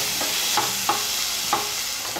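Chopped onions and tomatoes sauté in a hot pan with a steady sizzle, while a spoon scrapes and stirs in several soft, irregular strokes close by.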